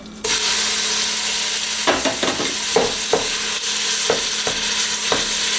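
Ground turkey hits heated olive oil in a pot and bursts into a loud, steady sizzle, with intermittent scraping knocks as the meat is pushed around.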